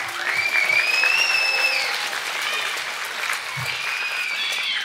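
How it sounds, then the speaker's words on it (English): A school talent show audience claps steadily for several seconds, mid-distance, while music or whistling tones run over the top of the applause. "Let's give everybody a massive round of applause."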